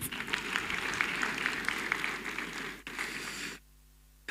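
Sustained audience applause at an anniversary ceremony, a steady wash of many hands clapping, which cuts off abruptly near the end.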